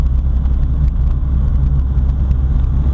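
Inside a 1979 VW Rabbit with a 1.6L diesel engine, a steady low rumbling drone of the moving car and engine fills the cabin, loud and close, with faint rattles.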